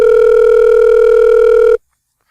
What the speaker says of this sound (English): Trey, call him again.